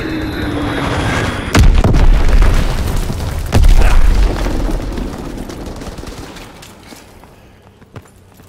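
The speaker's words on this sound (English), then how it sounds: "Enemy bomb incoming." Loud booms of bombs exploding in the Call of Duty WW2 video game, two heavy blasts about two seconds apart amid continuous rattling gunfire, which fades toward the end.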